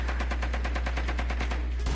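Rapid automatic gunfire in the Rainbow Six Siege video game, a fast even stream of loud shots that runs without a break for about two seconds.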